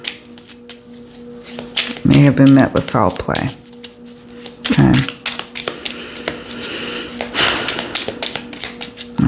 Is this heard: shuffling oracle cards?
yes